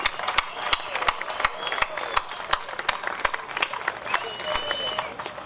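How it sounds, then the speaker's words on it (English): A crowd at a beach sand sculpting festival applauds continuously, with dense clapping and a few sharper individual claps standing out, the sound steady and moderately loud throughout. "let's get another round of applause"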